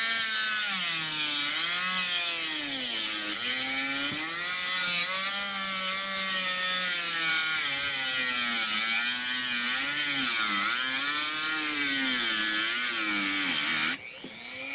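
A low-budget Dremel rotary tool cuts a slit into the housing of an MK6 JSW ECU, giving a close, continuous high-pitched whine that wavers in pitch as the cut bites, then drops away near the end.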